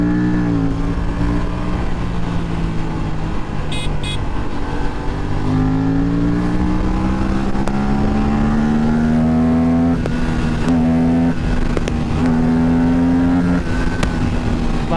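Aprilia RS457 motorcycle, rated around 47 bhp, revving hard while ridden, a loud continuous engine drone with rising and falling pitch as the rider works through the revs.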